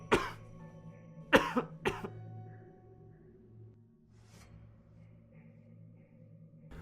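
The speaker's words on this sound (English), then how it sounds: "Heavy coughing with a bacterial rash?" Several heavy, harsh coughs burst out in a quick cluster near the start, followed by a fainter cough later, all close and loud over a quiet, low-humming background.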